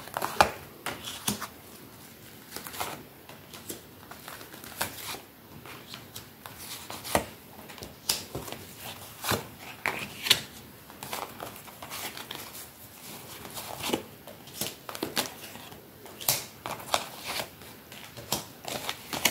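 Tarot cards shuffle and slap down in quick, uneven bursts of crisp riffling and soft paper taps, close and fairly quiet, over nearly twenty seconds with no talking.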